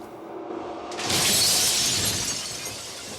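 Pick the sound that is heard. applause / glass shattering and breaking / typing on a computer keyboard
glass shattering and breaking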